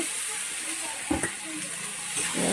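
Spiced boiled shrimp mixture, rubbed with ginger, garlic and onion, fries in a pan as it is stirred with the masala, giving a steady close sizzle with a few brief scraping knocks.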